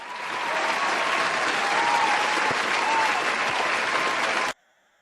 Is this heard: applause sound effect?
yes